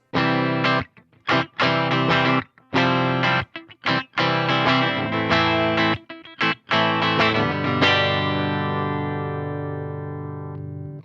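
Electric guitar on a Marshall Class 5 amp with a clean tone, bridge pickup, plays a series of strummed chords with short pauses, ending on a long ringing chord that slowly fades.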